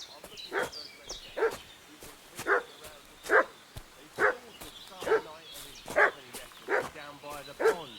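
A dog in the video game Kingdom Come: Deliverance 2 barks in a regular series of about ten sharp, fairly close woofs, roughly one per second, with faint voices in the background.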